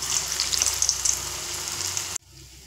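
Cabbage chicken balls frying in oil over low heat, a bright steady sizzle with small crackling pops that cuts off abruptly near the end, leaving a faint hum.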